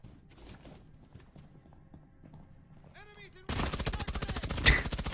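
Rapid, loud automatic gunfire from the video game Rainbow Six Siege bursts in after a quieter stretch of game sounds and keeps firing in a fast, even rhythm through the end.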